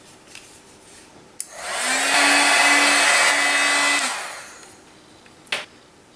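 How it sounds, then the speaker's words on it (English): A handheld heat tool blasts a steady whooshing roar of hot air over gold embossing powder on a card, rising in after a click, holding for a couple of seconds with a low hum, then fading out, with a small knock at the end. "then hit that with my heat tool"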